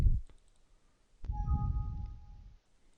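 Sharp mouse clicks ring out on a laptop, a quick pair at the start and another single click a moment later, each crisp and close in a quiet room.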